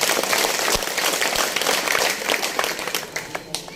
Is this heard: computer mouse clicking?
no